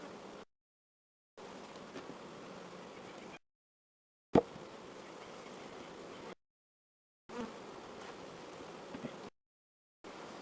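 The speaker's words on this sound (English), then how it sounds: "We do not want our bees to swarm." Honeybees at an open hive during hive splitting, a dense steady buzz close by, broken by several abrupt silent gaps and a single sharp knock partway through.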